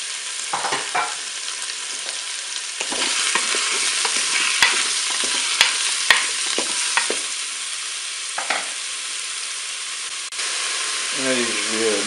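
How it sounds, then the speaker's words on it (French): Beef meatballs and button mushrooms browning in a Cookeo multicooker, a loud continuous sizzle with stirring clatters and a brief voice near the end. "je vais pouvoir faire revenir mes boulettes de bœuf"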